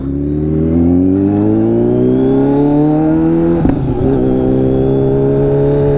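A loud motorcycle engine drones steadily and rises in pitch as it speeds up, with a brief clunk midway, on a ride from Shergaon to Dirang in Arunachal Pradesh.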